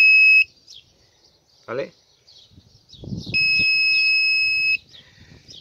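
A wireless radio-frequency doorbell repeater gives a loud electronic tone that briefly stops and then sounds again as a long steady beep, with a short spoken word and some handling noise between the tones.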